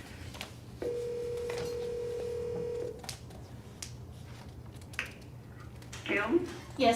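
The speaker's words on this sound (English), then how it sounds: "Dialing Betsy White." A telephone places a call during a remote budget meeting, with a steady tone held for about two seconds, then quieter line noise and faint clicks before some brief chirping sounds near the end.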